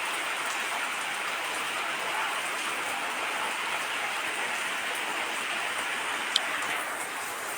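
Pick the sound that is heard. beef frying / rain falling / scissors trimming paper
rain falling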